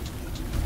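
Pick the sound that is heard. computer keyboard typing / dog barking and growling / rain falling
rain falling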